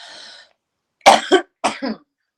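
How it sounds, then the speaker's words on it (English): A short breathy hum, then a pause, followed by two quick pairs of harsh throat-clearing bursts, loud and close. "I've got to clear my throat"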